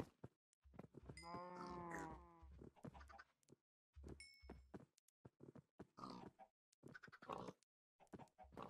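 Minecraft pigs grunt and oink in a series of short bursts separated by pauses, close and fairly clear, with a higher squeal in the middle.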